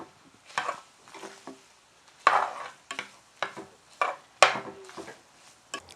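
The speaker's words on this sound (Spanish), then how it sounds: "Ahora se la voy a poner aquí a la carne que ya está empezando a dorar." Onion and meat browning in a pan, with sizzling broken up by a series of stirring scrapes and clatters at irregular intervals, close and fairly loud.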